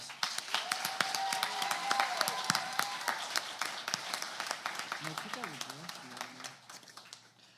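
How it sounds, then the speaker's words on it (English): An inauguration ceremony audience claps for a newly appointed student government president and his administration, a moderate round of individual claps that thins toward the end, with faint voices underneath. "give newly appointed President R.J. Ware and his administration another round of applause"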